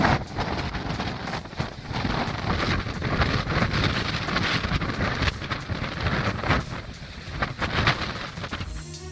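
Strong wind of about 136 km/h roars steadily at a polar research station, a continuous loud buffeting rush with gusty surges and no voices.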